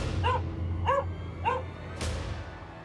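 Three sharp, evenly spaced barks from a German Shepherd police dog, loud and close over a low steady hum, followed by a short burst of noise.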